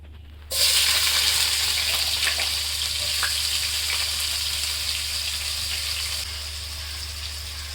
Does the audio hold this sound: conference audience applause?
no